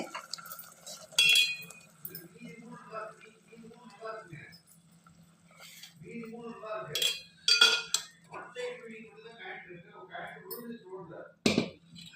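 Tempering poured into a cooking pot while making Navaratri offering dishes, heard as metallic clinks of a ladle and vessel with soft splashy bursts, under ongoing talk.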